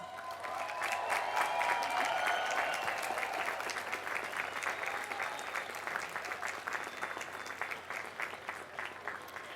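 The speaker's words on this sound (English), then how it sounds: "give them a well-deserved round of applause" Sustained applause from a large audience at a university commencement ceremony, loud and steady throughout, with a faint crowd murmur underneath.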